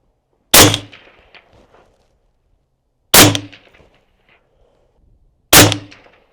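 Three loud, sharp AR-15 rifle shots, evenly spaced about two and a half seconds apart, fired at a bullseye target on an outdoor range, each with a short ringing decay and no talking in between.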